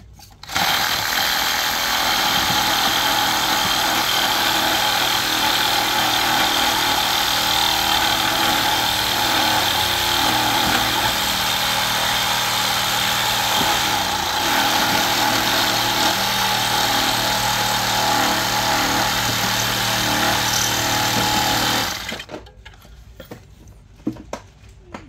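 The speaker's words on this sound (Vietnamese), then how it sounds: "Cắt nửa tấm ván là nhẹ nhàng, cái này là ván khô nè, rất là khó cắt nha" A handheld reciprocating saw runs loud and continuous for about twenty seconds, grinding harshly through a dry wooden board, then cuts off abruptly into a quiet room.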